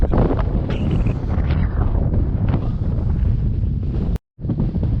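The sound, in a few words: wind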